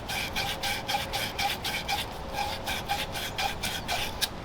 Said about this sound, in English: And you do the best you can with your sandpaper.